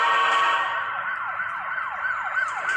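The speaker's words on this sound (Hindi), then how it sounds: "अचानक से दोनों को पुलिस सायरन की आवाज सुनाई देने लगी।" A police siren wails in quick repeated sweeping cycles, loud and close, with no other sound around it.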